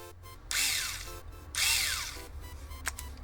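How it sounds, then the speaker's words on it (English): An electric drill used for restringing a pawn shop guitar whirs up in two short bursts, each spinning up and winding down, fairly close and loud with quiet gaps between. "Take my trusty electric drill thing."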